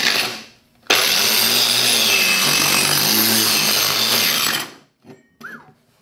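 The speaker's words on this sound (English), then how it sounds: "this is just a flat raspy file, so there's gonna be a fair amount of sawdust flying" A flat rasp file scrapes across wood on a woodworking bench in one loud, continuous stroke of gritty rasping lasting about four seconds, followed by a few faint scuffs.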